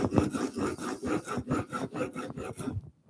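A steel chisel is rubbed back and forth on an abrasive sheet in scary-sharp fashion, giving about ten close, steady rasping strokes in a regular rhythm before stopping abruptly.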